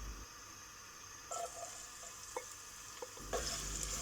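Chopped white onion fries in ghee in a heavy pot with a faint, soft sizzle, broken by a few light stirring scrapes and clinks, no voices.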